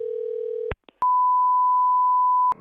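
A telephone line, placing a call to a pawn shop, gives a steady low tone that cuts off with a click, then a higher continuous tone sounds alone until another click.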